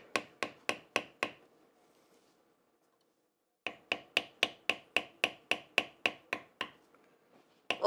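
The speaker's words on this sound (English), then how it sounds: "You're beveling, you're pushing material down." A metal leather beveler is struck repeatedly with a mallet while tooling a hexagon pattern into leather, giving crisp, evenly paced close-up taps in two runs separated by a short pause, with no talking.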